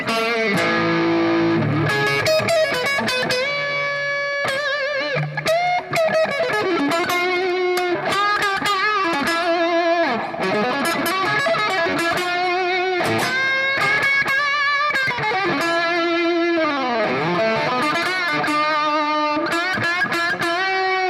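Distorted electric guitar on the neck pickup plays a continuous run of notes and sustained chords, loud and close, with no talking over it.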